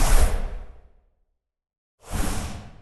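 A designed whoosh built from car-key jingles, two bright airy swooshes separated by a second of silence, each surging loudly then trailing off.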